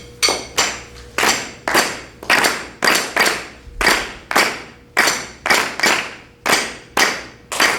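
Hand clapping beating out a rumba clave pattern during a rhythm lesson, sharp close claps in repeating groups with uneven spacing, loud and dry with no talk.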